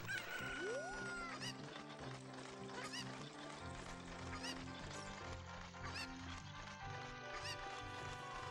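A chicken (cucco) in the video game Ocarina of Time squawks and clucks in short repeated calls over busy game music, with a rising squeal near the start.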